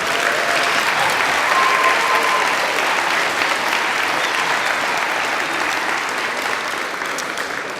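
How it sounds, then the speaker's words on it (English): An audience at an elementary school Veterans Day program applauds a group of students, a dense, loud and sustained clapping that fades slightly toward the end. "Let's give this group of students a big round of applause"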